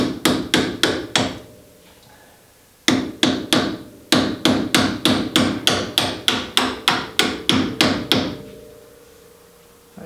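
A copper-faced mallet tapping a stainless bolt into a TVR Vixen Series 3 front suspension, striking in sharp, rhythmic bursts of rapid blows separated by short pauses, close and loud.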